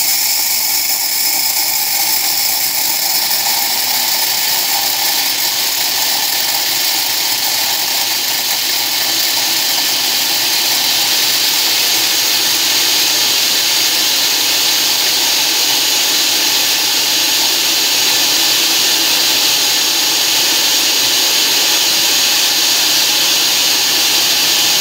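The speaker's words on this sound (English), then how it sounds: "we don't want to overwhelm or bog down the blender" An Oster Pro 1200 blender grinding dried chickpeas into flour gives a loud, steady high-pitched whine with a gritty rattling texture. It runs continuously and close up for the whole stretch, with no voices.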